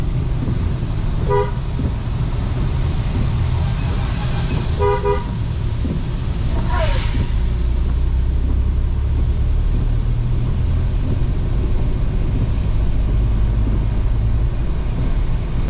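A car drives along the Malshej Ghat road in the monsoon, its engine and road rumble running steadily throughout, with a couple of short horn toots early on and another vehicle passing.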